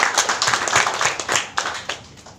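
An audience at an academic event claps in a short, uneven burst of individual hand claps for Mbak Ari, thinning out as it ends.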